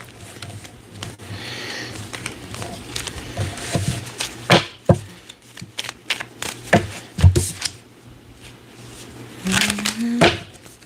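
Tarot cards being shuffled by hand, a run of soft riffling and slapping bursts close by, with faint background voices in the room.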